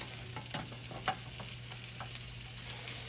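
A buttermilk blueberry pancake fries in a pan, giving a faint, steady sizzle broken by a few soft spatula clicks.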